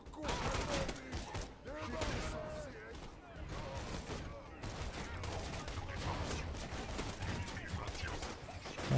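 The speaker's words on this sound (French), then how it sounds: "Bon, ça se tire entre eux" Gunfire crackles steadily as enemies shoot at each other in the video game Borderlands 2, with distant bursts running throughout under someone speaking French.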